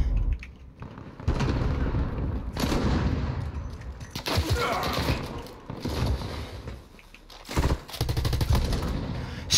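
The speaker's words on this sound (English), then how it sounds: "Stop fucking shooting me," Bursts of gunfire in a shooter video game crack out in irregular volleys, some rapid automatic strings, others single loud shots, with quiet gaps between.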